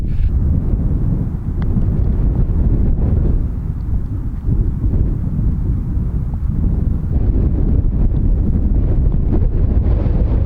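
Strong gusting wind on a golf course buffets the microphone with loud, continuous low rumble and roar, steady throughout with slight swells.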